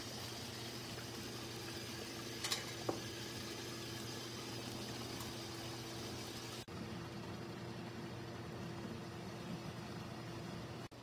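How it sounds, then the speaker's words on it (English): A steady rolling bubble and low hum of water boiling in a large water bath canner with jars of plum jam, continuous throughout, with a couple of faint clinks. "I've already got my water boiling."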